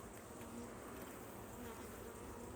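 Dense, steady buzzing of many honeybees around a beehive, a continuous close drone with no voices.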